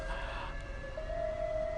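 An emergency vehicle siren in Brooklyn, a steady wailing tone heard from a distance over low city background noise.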